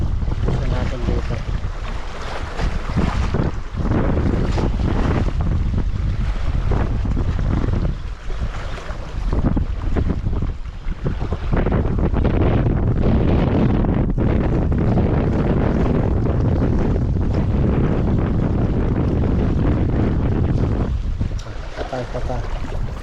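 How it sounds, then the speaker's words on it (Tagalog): Strong sea wind roars across the microphone throughout, buffeting continuously with waves and boat noise beneath, while fishing from a small boat out on open water. "ang lakas na ng hangin, grabe"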